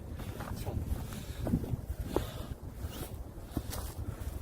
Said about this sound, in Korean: 바람소리 들리나요?